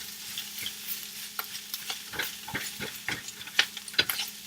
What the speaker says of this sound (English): you are going to mix this all up with the Spam because you want to cook it